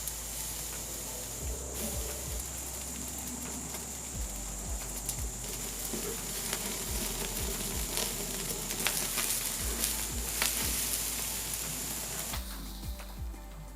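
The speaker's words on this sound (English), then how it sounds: "we're gonna head over to the yakitori to sear it up" A thick tomahawk steak sears over a hot yakitori grill, giving a steady close hiss and crackle with scattered pops and spits of fat throughout, easing off toward the end.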